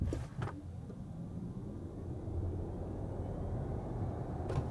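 An all-wheel-drive Audi Q4 e-tron electric SUV accelerates hard from a standstill to 80 km/h. A low, quiet, steady rumble of road and motor comes from inside the cabin, with a few faint clicks at the start and end.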